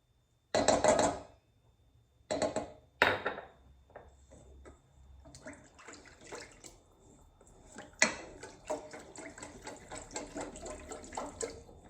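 A whisk scrapes and clinks against a bowl while working tomato paste into a stew sauce for slow-cooker Chinese beef stew, in loud choppy bursts at first, then a quicker, continuous rhythmic tapping and swishing.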